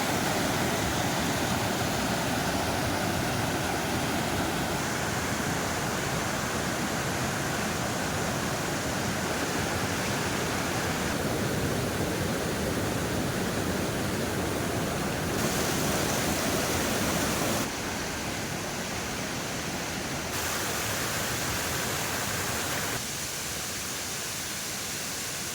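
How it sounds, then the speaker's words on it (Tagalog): Rushing water at Las Familias private resort in Barangay Piit, Majayjay, Laguna, a dense steady hiss of flowing stream water, close and loud, continuing unbroken with slight shifts in level. "pinapakinggan ang lagaslas ng tubig."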